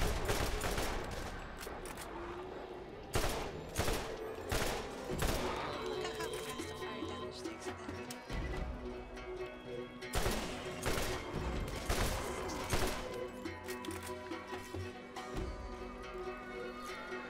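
Gunfire in the Borderlands video game, bursts of rapid shots and fusillades recurring across the whole stretch, loud and close, with game music and effects underneath and a voice talking at times.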